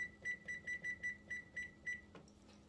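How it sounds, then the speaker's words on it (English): A kitchen timer beeps in a fast, even series of about nine short tones while it is set during cooking, then stops with a click. The beeps are close and clear over a quiet room hum. "I'm going to set my timer for 20 minutes"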